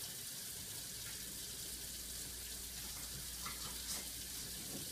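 Tap water runs steadily into a sink while juicer parts are rinsed, a constant close hiss with faint clinks of the parts and no speech.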